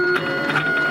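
A vinyl cutting machine cuts vinyl for model aircraft markings, a short steady mechanical whir with faint tonal hums and light rhythmic pulses of the moving blade carriage, close and alone.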